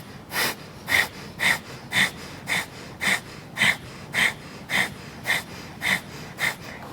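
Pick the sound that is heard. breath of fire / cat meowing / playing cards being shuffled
breath of fire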